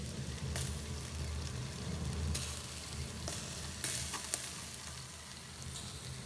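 Meat sizzles on a lowered grill in an arctic cabin BBQ hut, a steady close crackling hiss with scattered pops and a low background rumble throughout.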